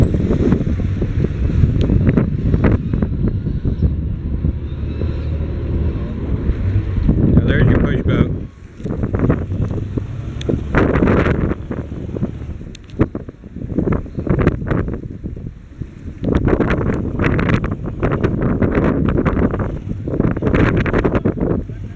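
RoRo ferry at the port of Dumangas, Philippines, a single-engine, single-screw vessel, heard as a low rumbling drone almost buried under heavy gusting wind noise on the microphone.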